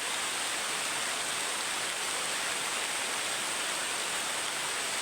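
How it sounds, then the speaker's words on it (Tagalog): Heavy rain pours steadily in a dense, constant hiss, loud and unbroken throughout. "Lakas na ng ulan."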